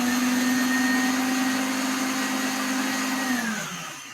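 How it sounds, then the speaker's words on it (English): A kitchen blender runs loud and steady with a constant motor whine, then winds down near the end as the motor slows. "Do you mind the noise of the blender"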